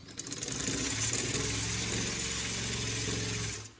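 A sewing machine runs continuously while stitching a straight seam on a girl's frock, giving a steady, close mechanical whir with a fast rhythmic chatter that stops abruptly at the end.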